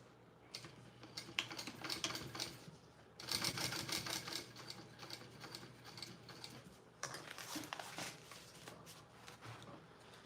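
A sewing machine stitching around a piece of a Roadie bag, a rapid, faint mechanical chatter running in several stretches with brief gaps between them.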